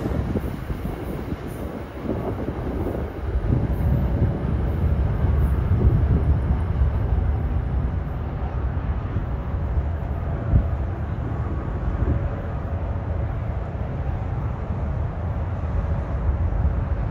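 NJ Transit train at Secaucus Junction station's lower level during evening rush, a loud steady rumble of rolling cars and wheels on track with brief clanks and faint squeals, continuing throughout with no talk.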